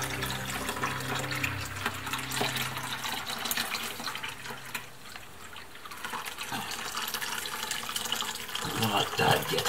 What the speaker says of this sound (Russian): А накрываем для того, чтобы слить эту водичку, что осталось у нас